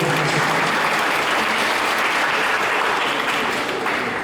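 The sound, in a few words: audience applause at a church fundraising gathering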